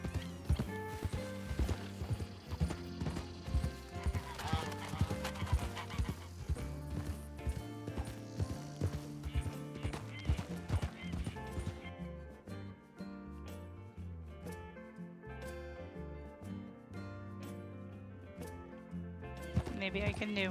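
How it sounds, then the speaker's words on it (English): Horse hooves clip-clop in Red Dead Redemption 2 as the horse keeps moving, a steady rhythmic trot with faint tack jingling, set under continuous game music and someone talking throughout. "My horse won't stop moving."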